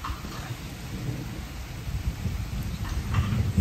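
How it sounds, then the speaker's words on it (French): Steady rain falls with deep, rolling thunder rumbling underneath, growing slightly louder toward the end, heard outdoors near a garden with no talking. "Bon, et ben il pleut"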